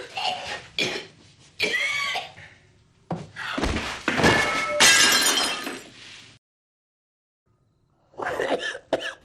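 Harsh, loud coughing comes in repeated bursts and fits, with a crash like breaking glass among them. A brief silence follows, then a final cluster of coughs.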